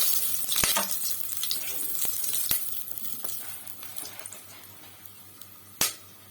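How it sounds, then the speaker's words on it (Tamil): Whole spices (cinnamon bark, star anise, cardamom, cloves, bay leaf, kalpasi) sizzle and crackle in hot oil in a pan for macaroni, a steady close frying hiss with a few sharp clinks of a utensil against the pan. "கல்பாசி இதெல்லாம் போட்டு நல்லா பொரியுது"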